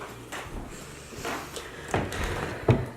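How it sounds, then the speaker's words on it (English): A stuck dresser drawer tugged several times, short scraping thuds and wooden knocks coming in uneven bursts, close and moderately loud, with a sharper bump near the end. "So the first drawer I can't even get open."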